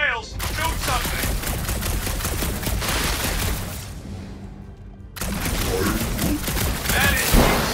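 Gunfire in the PC video game Marvel's Guardians of the Galaxy, a dense rapid fusillade of shots that drops away briefly, then resumes in another loud burst.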